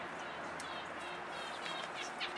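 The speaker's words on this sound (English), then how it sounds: "There's lots and lots of little birds in my yard." Small birds chirp in a home yard, thin high tweets scattered over a steady outdoor background hiss, fairly faint and a little distant.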